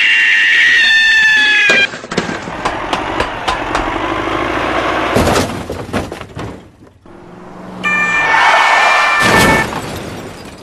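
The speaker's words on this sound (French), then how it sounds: "Le chat est dans le camion toupie, il faut le faire sortir." A cat yowls and meows loudly inside a toy cement mixer truck, the harsh cries breaking off around rattling, clattering knocks and an engine-like rumble before a final drawn-out wail.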